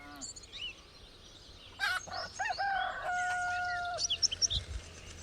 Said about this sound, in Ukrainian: почув, як півень співав на огорожі